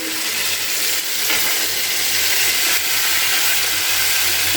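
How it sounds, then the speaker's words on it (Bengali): Water poured into a pan of rohu fish curry with potato and cauliflower, a dense continuous splashing rush that stays loud and steady throughout, close by and alone. "এবারে আমি পরিমাণ মতো জল দিয়ে দেবো"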